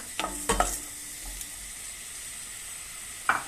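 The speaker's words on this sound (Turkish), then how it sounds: "Sıvı yağını tencereme koyduktan sonra soğanımı ve sarımsağımı içine alarak" Onions and garlic sizzle steadily in oil in a pot while a utensil clinks and scrapes a few times, with no speech.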